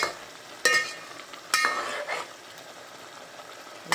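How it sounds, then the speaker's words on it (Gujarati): Tomatoes and salt get stirred in a pan while making prawn biryani, with a few scraping spoon strokes and soft clinks against the metal over a faint low sizzle, quiet and close. "એને આપણે સરખી રીતે મિક્સ કરી દઈએ।"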